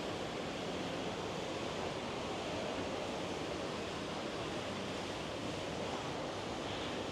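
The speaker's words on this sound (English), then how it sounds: "So this is the waterfall." Steady, dense rush of an indoor waterfall in a shopping mall, a continuous broadband roar with no pauses and no voices.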